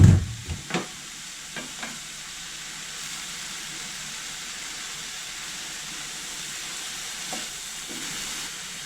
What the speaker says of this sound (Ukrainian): Перемішуємо та тушкуємо далі.